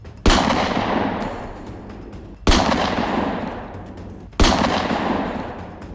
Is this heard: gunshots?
yes